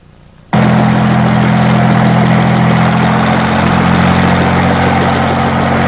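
A helicopter's engine and rotor roar in suddenly after a short quiet moment, then hold loud and steady with rapid rhythmic blade chop throughout.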